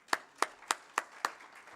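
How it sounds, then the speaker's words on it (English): Five sharp claps at a steady, slightly slow rhythm at a hotel event for a rebranding and website launch, fairly faint and with no voices, sounding like one or a few people clapping rather than full applause. "So really a big round of applause to everyone"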